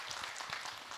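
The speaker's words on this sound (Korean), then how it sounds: "박수를 많이 주세요." Brief, faint burst of audience clapping at a Buddhist dharma talk, a soft continuous patter lasting about a second.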